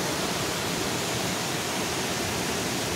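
A monsoon waterfall near Netarhat's Lower Ghat pours down from above in a dense, continuous broadband roar, loud and close with no breaks.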